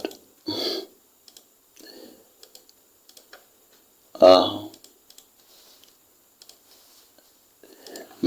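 Computer keyboard typing, a few short bursts of clicking keys close by between stretches of speech.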